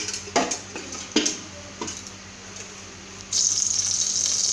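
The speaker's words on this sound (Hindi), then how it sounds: "अब हम कढ़ाई में थोड़ा सा और तेल डालेंगे" A little oil goes into a kadhai while bharva karela (stuffed bitter gourd) is cooked: a few light clinks early on, then a steady close pouring hiss over the last second or so, with no talking.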